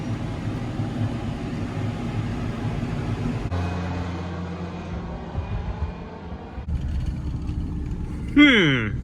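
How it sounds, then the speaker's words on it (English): A John Deere 7430 tractor pulling a 15-foot brush hog gives off a steady low engine drone that shifts in tone midway, with a brief sharper sound near the end. "I'm using the 7430 here with a 15-foot brush hog."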